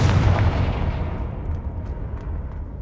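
A Confringo blasting spell detonates in Hogwarts Legacy with a single loud, deep boom, followed by a rumbling tail that fades slowly over a few seconds.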